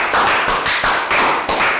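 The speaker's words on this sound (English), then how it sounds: "Big rounds of applause for Bang Bon." A short burst of classroom applause, a few quick rhythmic claps close by, loud and bright.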